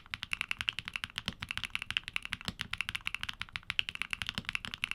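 Keygeek Azure mechanical switches with extended 22mm Korean springs clack under fast steady typing, a close, bright rapid stream of crisp keystrokes with occasional heavier thocks, heard alone.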